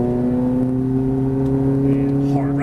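A Ferrari F430 engine pulls hard on a race track, its steady harmonic drone sustained throughout at close range with a faint whir on top.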